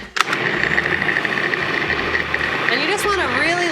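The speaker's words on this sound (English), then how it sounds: "Blend, blend, blend." A blender whirs steadily as it purees butternut squash, a loud, close motor drone that rises in pitch near the end as the contents loosen.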